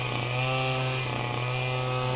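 A village grass cutter runs continuously nearby, a steady buzzing two-stroke engine drone with a strong, even pitch and no pauses, heard on its own.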